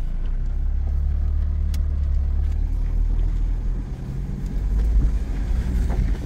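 Interior drone of a 2009 Chevy Malibu with a 4-cylinder engine and 257,000 miles on the road, a steady low rumble with road and wind noise that dips briefly and then swells again, loud and continuous, with no talking.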